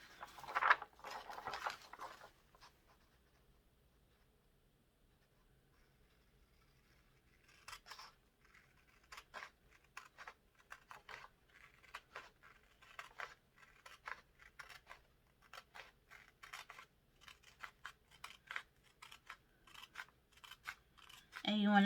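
Scissors snipping paper to trim a printed sublimation template for a 20oz tumbler, a rapid run of close, crisp cuts after a brief quiet stretch.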